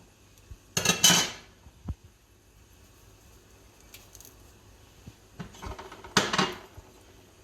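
Popcorn kernels being stirred with butter and oil in a cooking pot, giving a few separate bursts of scraping and clattering against the metal with quiet gaps between them, close by and with no talking.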